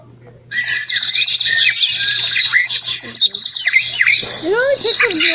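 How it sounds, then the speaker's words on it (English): Busy video game birdsong fills the air, with many bright chirps and trills overlapping steadily, loud and close, and a faint low hum underneath. "You can hear the birds that goes on in the game"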